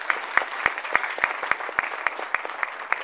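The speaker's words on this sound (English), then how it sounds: "So I want to give him a round of applause first." Clapping from an audience at an LGBT veterans event in Chicago, heard as evenly spaced, crisp claps in a steady rhythm against a quiet room.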